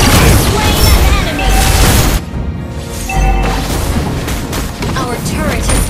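A turret blowing up in a MOBA-style mobile game, heavy booming crashes filling a dense, loud mix of game effects, with a brief dip partway through before the clamor resumes; voices are present.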